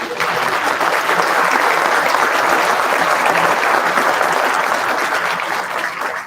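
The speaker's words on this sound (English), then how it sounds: "let's give them a round of applause, ladies and gentlemen" Loud, sustained applause from a graduation audience honouring faculty and staff in a large hall, a dense even roar of many hands lasting several seconds before tapering slightly at the end.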